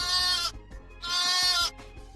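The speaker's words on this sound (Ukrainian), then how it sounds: "Баран тато, вівця мама." A sheep bleats twice nearby, two loud, drawn-out wavering calls separated by a short pause, with nothing else audible.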